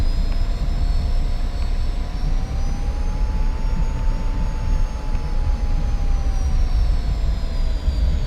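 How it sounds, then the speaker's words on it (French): An aircraft arrives at an airshow, a loud continuous engine roar with a heavy low rumble and a high whining tone that slowly rises and falls, sustained throughout without voices. "Il y a des appareils qui arrivent"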